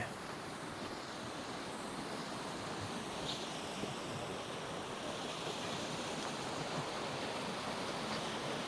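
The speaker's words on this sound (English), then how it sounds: "the creek is running pretty strong" A small creek on the Canada Creek Trail near Suches, Georgia, running high and fast, gives a steady, unbroken rushing hiss of water, even and continuous from start to finish at a moderate distance.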